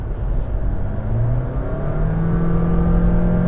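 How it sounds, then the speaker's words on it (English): A Honda Jazz Crosstar's engine with an eCVT gearbox revs high and holds under full throttle, the pitch climbing steadily as it drones loudly close by. "It goes hunting straight away for the high revs to give you all the power it can"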